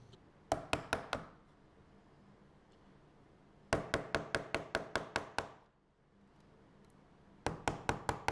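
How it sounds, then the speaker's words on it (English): Mallet blows drive a chisel into wood toward layout lines for a stone and wood bridge bench, landing in three quick bursts of sharp close knocks separated by short quiet gaps. "Then I started chiseling towards my layout lines."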